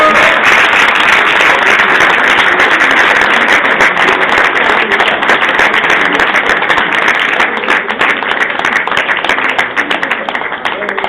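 A crowd at a Saint-Denis awards event applauds the Monarques junior men's American football team with loud, dense, sustained clapping that thins slightly toward the end, with some voices mixed in.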